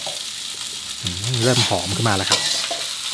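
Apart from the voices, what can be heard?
stir-frying fried rice with canned fish in a wok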